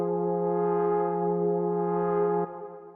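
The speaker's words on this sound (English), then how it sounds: "the next thing we have here is this little pad" Sustained melodic techno synth pad built from one analog saw wave with a touch of white noise, low-pass filtered, holding a steady chord for over two seconds before dropping to a softer tail, alone with no voice.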